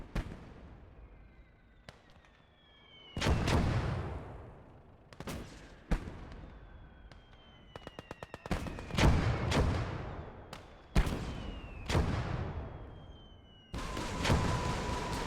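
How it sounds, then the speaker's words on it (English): Katyusha rocket artillery fires in a WWII real-time strategy game: repeated sharp launches and whooshing bursts, some in quick ripples, spread over fifteen seconds with battlefield booms between. "That Katyusha fired like everywhere."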